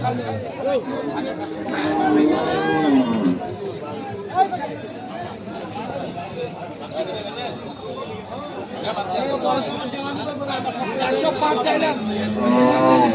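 Cattle low and moo amid constant crowd chatter at the Fasiladanga cattle market in Dinajpur, Bangladesh, where meat bulls are being traded; several drawn-out moos rise over loud, busy voices throughout.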